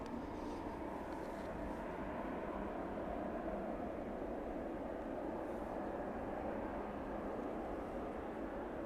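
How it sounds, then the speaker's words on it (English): Aircraft landing on runway 27 at East Midlands Airport, a broad continuous jet roar heard from nearby, steady and rumbling throughout without pauses. "The Vulcaner clear to land into East Midlands on runway 27 now."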